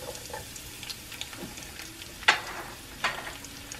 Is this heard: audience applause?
no